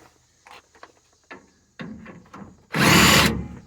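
A power tool briefly whirs up loud and close to tighten air shock bolts on a Ford F-150, following a series of scattered clicks and clunks of handling.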